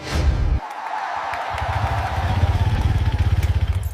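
A motorcycle engine rumbles close by, cutting out briefly, then settling into a steady, throbbing idle with a clear pulsing rhythm.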